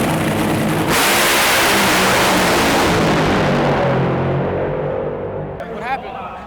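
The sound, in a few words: top fuel drag racing car run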